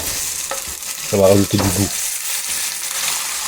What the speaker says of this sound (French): on va faire revenir donc nos cuisses de volaille